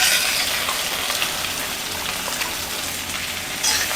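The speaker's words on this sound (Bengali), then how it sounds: "পেঁয়াজটা একটু ভাজা ভাজা হোক।" Chopped onions fry in a pan over lowered gas heat, giving a steady, close, continuous sizzle with a bright hiss throughout and no voices.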